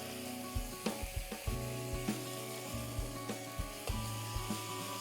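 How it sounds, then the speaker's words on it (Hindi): Mutton sizzles and fries in a pan with ginger-garlic paste as a spoon stirs it, giving a steady crackling hiss broken by regular scraping knocks of the stirring, close and alone. "अदरक लहसुन का मसाला अच्छे से भून चुका है। अब हम डालेंगे मटन।"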